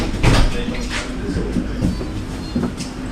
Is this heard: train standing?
yes